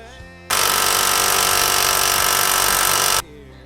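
A Milwaukee power tool runs in one loud, steady burst of about three seconds, removing rusted bolts from a 1991 Ford F-150 during fuel tank preparation, with brief quieter workshop noise before and after.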